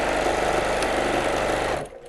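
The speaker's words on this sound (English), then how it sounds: "I'm going to backstitch a little bit here." Close, loud whir of a sewing machine backstitching a seam on a Santa hat, running continuously before cutting off abruptly near the end.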